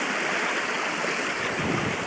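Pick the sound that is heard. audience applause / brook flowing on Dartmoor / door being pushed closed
brook flowing on Dartmoor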